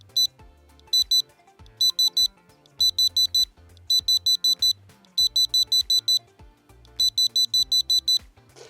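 A Rippton Bitekeeper+ carp fishing bite alarm gives rapid bursts of four or five sharp, high electronic beeps, repeated about once a second, loud and close, with faint low tones and rustling between bursts.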